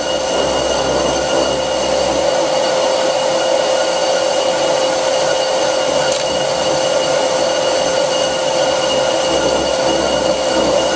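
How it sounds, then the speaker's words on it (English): A 100-year-old bench lathe machines a brake disc while chattering under too deep a cut. It makes a loud, continuous grinding hum with a steady high-pitched whine, and a low rumble comes through the bench, with no voices over it. "the chatter issue becomes a real problem. The whole bench is rumbling."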